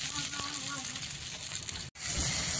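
Fish pieces fry in a pan with a continuous loud hiss and sizzle that cuts out briefly near the end, then resumes.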